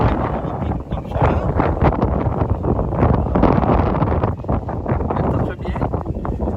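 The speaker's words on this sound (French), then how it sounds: "Désolé pour le vent d'avance." Strong, steady wind buffets the microphone in a vegetable garden during tomato transplanting, a loud continuous rumble and roar running the whole stretch without letting up.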